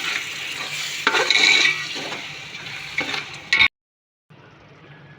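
Yogurt is stirred into a potato dum biryani mixture in a pan, giving wet scraping and squelching strokes over a low sizzle, then a sudden silence before faint background returns.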